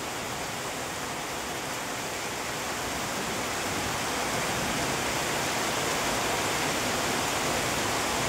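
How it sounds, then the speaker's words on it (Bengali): Heavy rain pouring down steadily on a foggy mountain road, a dense, even roar of broadband hiss that holds loud and constant throughout with no voices. "বৃষ্টি, এত বৃষ্টি"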